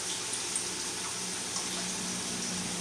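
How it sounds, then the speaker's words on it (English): Water pours steadily out of a cooking pot while shepherd's pie is being made, a continuous close rushing and splashing stream with no pauses and no talk. "I'm just draining out the water."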